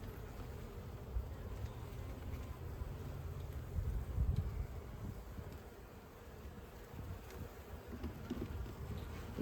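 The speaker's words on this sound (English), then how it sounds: "These bees are really calm." A soft, continuous drone of calm honeybees buzzing around an open hive fills the air, swelling slightly in the middle with occasional closer fly-bys.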